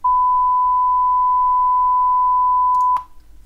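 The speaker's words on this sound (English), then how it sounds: "we get a 1 kHz sine wave." A steady pure 1 kHz sine tone played back in an audio editor, loud and unbroken for about three seconds before cutting off abruptly, followed by a faint click and low background noise.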